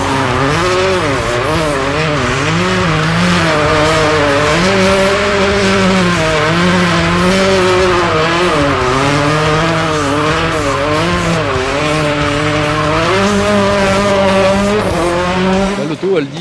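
A Renault race car spins 360s on a hard track, its tires squealing loudly and continuously with a wavering pitch over a steady engine roar, close and dominant throughout.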